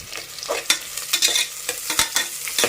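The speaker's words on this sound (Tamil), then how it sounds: "இப்போ இது நல்லா வதங்கட்டும்" Prawn biryani masala fries in a pan while a spoon stirs it, giving a steady sizzle broken by sharp scraping strokes at irregular intervals, close and fairly loud with no talking.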